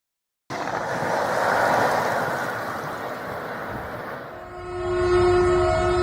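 A loud train rumbles close by, steady and heavy, then a sustained horn blast sounds near the end, holding a bright tone over the roar.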